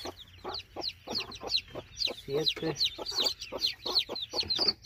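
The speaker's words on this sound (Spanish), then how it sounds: "Échale la gallina ahí, Tito." Hens and chicks cluck and cheep in a rapid, busy stream on a small farm as a mother hen is placed in with her chicks, while a man counts aloud nearby.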